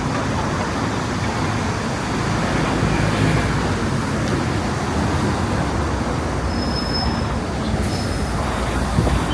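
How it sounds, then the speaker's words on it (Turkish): City bus pulling up at a bus stop in Seoul, a steady broadband engine and road rumble with passing traffic, close and continuous, with a faint high whine near the end. "Evet, otobüs geldi."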